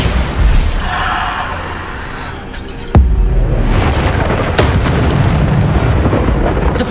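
Bombarda exploding spells in Hogwarts Legacy erupt as loud, close booms over a continuous rumbling roar, with one sharp blast standing out partway through and further bursts following.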